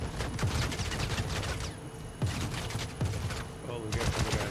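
Rapid gunfire bursts crackle through a Star Citizen online session, several volleys and sharp single shots spread across a few seconds, loud and close amid game ambience.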